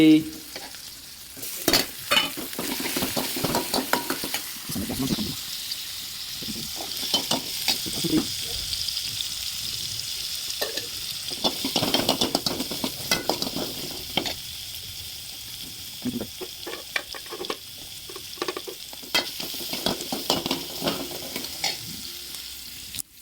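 Browned onions and tomatoes frying in a pan while being stirred, bursts of loud sizzling and spatula scraping rising and falling through the clip, with clattering knocks and brief quieter gaps.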